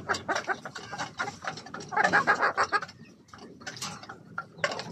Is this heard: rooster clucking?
yes